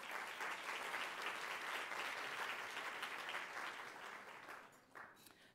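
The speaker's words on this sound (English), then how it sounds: "Let's give them another round of applause." An audience at the North Carolina Teacher of the Year ceremony claps for the finalists, a dense, sustained round of applause that fades slightly toward the end.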